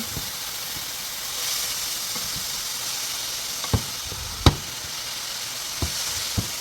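Cabbage frying in a pan gives a steady hiss and sizzle, broken by a few sharp clacks and scrapes as it is stirred, with no talking.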